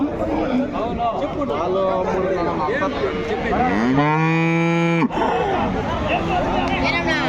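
A cow lets out a long, loud moo nearby at a cattle market, rising and holding before cutting off, amid a busy background of voices and other cattle.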